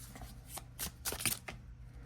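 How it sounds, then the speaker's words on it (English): A deck of oracle cards is shuffled briefly, with quick soft riffling and flicking bursts over a low steady hum, close and fairly quiet. "Let's do 3 more. Shuffle it."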